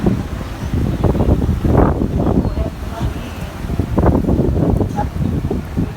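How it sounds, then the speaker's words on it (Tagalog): Strong gusty wind at a beach in Boracay, Philippines, roars and buffets the microphone, a continuous low rumble that swells and eases throughout. "Lakas ng hangin, no? Lakas ng hangin."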